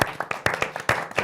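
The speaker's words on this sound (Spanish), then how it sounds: "Aplauso aquí." A church congregation claps in a brief burst of applause, with several sharp, uneven hand claps close by.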